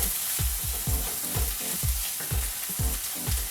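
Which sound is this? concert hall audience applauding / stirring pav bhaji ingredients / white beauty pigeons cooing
stirring pav bhaji ingredients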